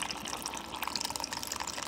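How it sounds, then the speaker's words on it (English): Iced coffee pours into a glass in a home kitchen, a short close liquid splash and trickle with faint clinking, lasting under two seconds with no talk. "Pour some iced"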